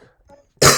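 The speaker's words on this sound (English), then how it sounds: "had to cough really quick" A single sharp cough bursts out close and loud right after a few faint murmured sounds.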